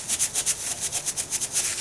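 Rapid back-and-forth wiping of rust from a soaked metal jewelry stamp, about a dozen quick scrubbing strokes in a steady rhythm, close and bright with no talking.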